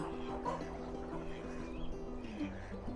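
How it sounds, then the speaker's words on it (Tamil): Ducks quacking and a rooster clucking nearby on a farm in Ajman, UAE, faint and intermittent over a low background hum. "வாத்து, சேவல்."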